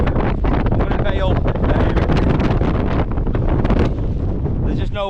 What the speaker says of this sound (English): There's no way of getting out of the wind, and them gusts are unbelievable.